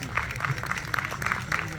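A congregation claps during a Urdu-Hindi church sermon, a quick run of fairly faint, rhythmic handclaps in bursts, with a voice partly underneath.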